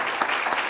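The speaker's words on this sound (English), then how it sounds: "We need to give Howard Berman a round of applause." Brief burst of audience applause in a hall for Howard Berman at a policy conversation event, dense clapping throughout, fairly loud with no voices over it.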